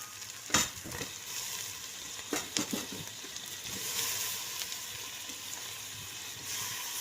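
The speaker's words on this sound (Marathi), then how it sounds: "आता तो चांगला परतून घेऊया आपण" Onion and tomato sauté in a pan for a spicy red country-chicken curry, with a steady close sizzle broken by several sharp clatters of stirring near the start.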